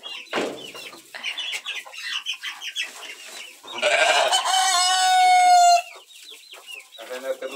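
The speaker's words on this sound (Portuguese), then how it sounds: "Minhas ovelhas estão aqui, ó. Já querendo comida." Hungry sheep on a small farm bleat for food, one long wavering bleat rising clearly over a busy background of clucking chickens and shuffling animals close by.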